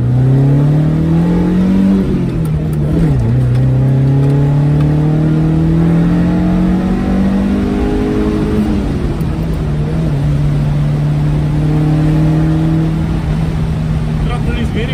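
Toyota Corolla KE70 engine revved by throttle, rising and falling in pitch in a few swells over a constant loud running drone, close by.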